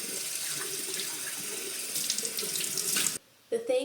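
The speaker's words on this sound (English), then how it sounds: "I turn on my water, try to get it all nice and warm, and then I go rinse it off" Warm water pours steadily from a bathroom sink tap while a face is rinsed, a close continuous hiss and splash that briefly cuts off near the end before resuming.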